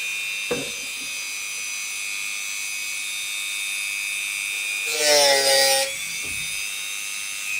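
High-pitched power tool whining steadily while sanding a cut hole in a ukulele body for a Bluetooth conversion, with a brief louder grinding burst as the tool bites, plus a couple of sharp knocks.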